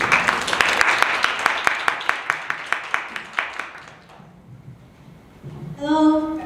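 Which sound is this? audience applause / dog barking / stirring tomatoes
audience applause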